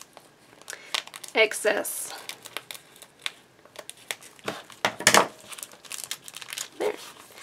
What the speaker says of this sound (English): I'm going to trim the top of the bag up too